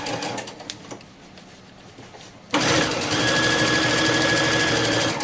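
After a quiet stretch of faint rustling, a sewing machine starts abruptly and runs at a steady fast whir, stitching elastic onto a doll dress, loud and close to the end.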